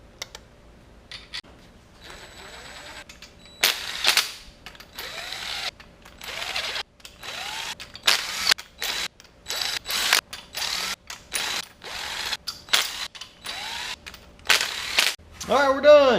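A torque wrench ratchets down bolts on a 1980 Camaro 5.7 small-block V8, sharp repeated clicks in short bursts close by, ending with the wrench's snap, with occasional speech between strokes.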